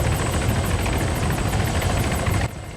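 Helicopter engine in a video game, a steady loud rotor drone with rhythmic blade chop throughout, dropping slightly in level near the end.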